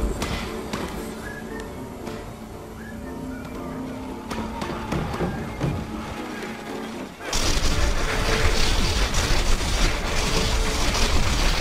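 Shots and cannon fire in Plants vs Zombies Garden Warfare 2 rattle through busy game sounds, building into a louder, dense barrage of rapid firing in the second half.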